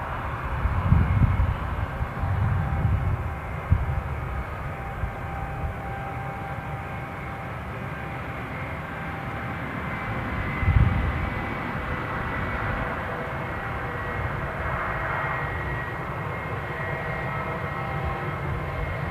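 A passenger jet moving on the ground at Newcastle airport, heard as a steady, moderately distant engine rumble with a faint whine that holds throughout, with no talk over it.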